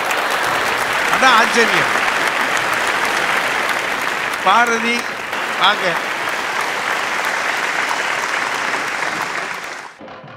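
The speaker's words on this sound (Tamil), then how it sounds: "அவர் பேச பேச எல்லாரும் கைதட்டுறாங்க" Sustained audience applause filling a packed hall at a Deepavali special debate show in Salem, a dense clapping wash that runs nearly ten seconds, with a voice speaking over it before the sound cuts off.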